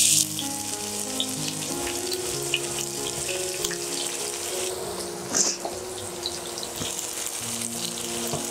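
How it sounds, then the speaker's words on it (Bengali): Chopped onions frying in hot oil for a dried ribbonfish curry with yam, a steady broadband sizzle running throughout with faint clinks of utensils, no voices. "পেঁয়াজ আমি অ্যাড করে নিয়েছি এবং ভালোভাবে ভেজে নিচ্ছি"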